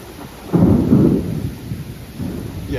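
Thunder from a severe thunderstorm with intense lightning rumbles loudly and close, followed by a second lower roll, over steady rain.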